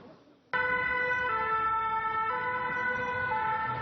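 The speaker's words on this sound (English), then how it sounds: "Plusieurs cars de sapeurs-pompiers, plusieurs ambulances." Loud fire engine and ambulance sirens start abruptly and hold a steady, sustained wail with overlapping tones, close by over faint traffic noise, in Paris during an attack.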